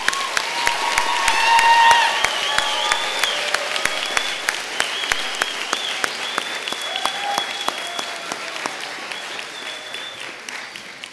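Audience applause at a Fresno State international graduates commencement celebration, a sustained wash of many hands clapping for about eleven seconds, with a few whistles and cheers rising above it.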